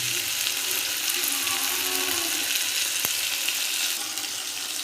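Raw mango pieces sizzle in hot tempering oil for okra curry, a steady loud fry hiss with a brief clink partway, and no talking.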